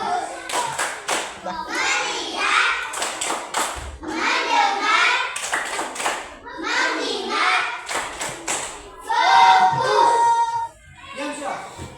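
Children clap hands in a rhythmic clapping game, with bursts of sharp claps alternating with group chanting voices, close and fairly loud in a classroom.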